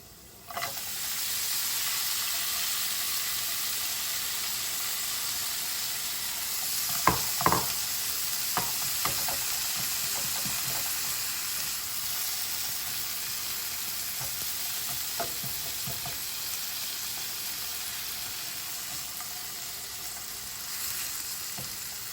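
Callaloo greens cook in a pan with a steady, loud frying hiss that barely changes, broken in the middle by a cluster of scraping stirs and clatters, then a few sparser ones.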